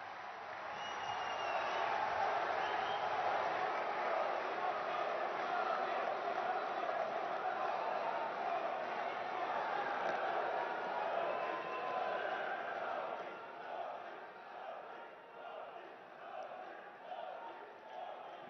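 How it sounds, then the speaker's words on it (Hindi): Applause and crowd noise rise at a large public event as the Prime Minister is invited to speak, a dense, sustained wash of clapping and cheering that holds loud for about twelve seconds before thinning out. "आइए तालियों की गूंज के साथ उनके विशिष्ट संबोधन के लिए आमंत्रित करते हैं।"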